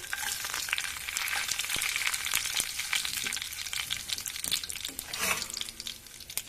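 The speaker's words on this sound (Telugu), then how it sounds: "ఆవాలు వేసుకుంటున్నాను తర్వాత తగినన్ని ఎండి మిరపకాయలు" Mustard seeds and dried red chillies sizzle in hot oil as the tempering for a spinach dal curry, a dense continuous crackle with scattered pops and light stirring, steady and close throughout.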